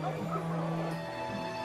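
Wolves hunting in a jungle story, yelping and barking like dogs in a steady, fairly close chorus of yips and whimpers for under two seconds.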